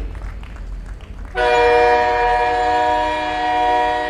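A train sound effect plays at an indoor ceremony, standing in for the Sikkim Sanskriti Mail pulling into Lucknow Junction. A loud, sustained horn with a rumble beneath it bursts in after a short quiet stretch and holds steady to the end.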